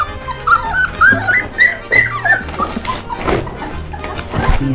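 Several dogs whimper and yip close by, high wavering whines and short sharp cries overlapping in an agitated, continuous burst.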